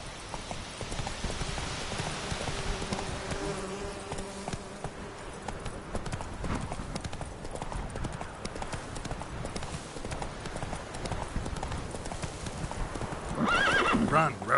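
Hooves of Roach, the horse in The Witcher 3, beat a steady clip-clop gallop throughout, close and clear, and a sharp neigh breaks out near the end.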